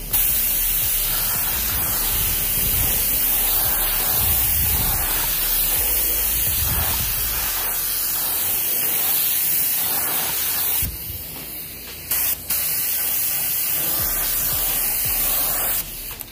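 Mahogany wood stain sprayed onto a wooden sample, a steady close hiss of the spray gun running for long stretches with a couple of brief pauses near the end.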